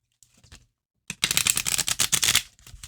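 A deck of tarot cards being riffle-shuffled by hand, heard as a short faint rustle and then a dense, loud run of rapid crisp flutters lasting over a second.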